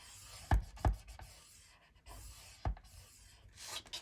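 A scoring tool is drawn across paper at the 4¼-inch mark for a lace-covered vintage journal cover, giving a few quiet, short scraping strokes close by in a hushed room.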